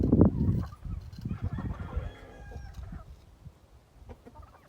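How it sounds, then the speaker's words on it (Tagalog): Chickens cluck close by in a farmyard, a burst of clucking at the start and softer clucks and rustling continuing underneath. "Anim lang yung manok dito."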